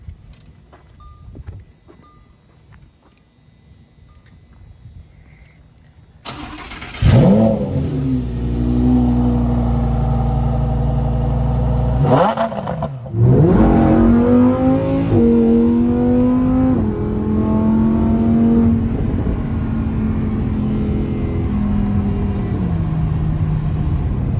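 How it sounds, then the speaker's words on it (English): A Vauxhall Corsa engine cranks and fires, then settles into a loud, steady run with repeated revs rising and falling, close to the listener; quiet shuffling comes before the start. "gonna start this up and rev it a bit"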